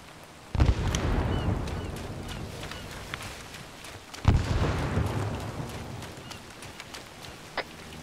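Two heavy frag grenade blasts in a military shooter game, each a sharp booming hit with a rumbling tail, the second about four seconds after the first, with faint scattered clicks between.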